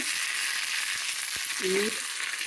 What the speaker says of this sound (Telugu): పోపు పెడుతున్నానండి